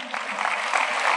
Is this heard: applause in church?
yes